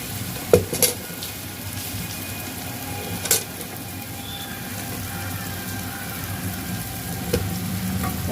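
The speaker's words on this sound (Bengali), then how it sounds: "গুড়টা আমি একটু পাক করব" Jaggery cooking down in a pan for mango pickle, a low continuous sizzle and bubbling with a few sharp clinks of utensil against the pan.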